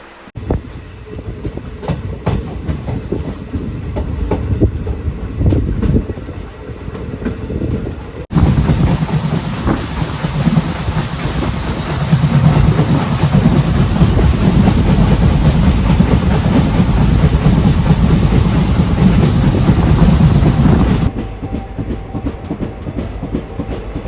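A night train from Digha to Kolkata rolls along from inside the carriage, a loud, continuous rumble of wheels on rails with a rhythmic clickety-clack and wind roar that swells in the middle section and eases later.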